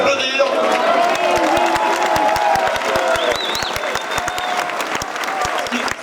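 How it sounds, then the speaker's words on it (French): A crowd at a comedy stage show breaks into sustained applause mixed with cheers and whoops, loud and continuous, with some voices audible within it. "On peut l'applaudir"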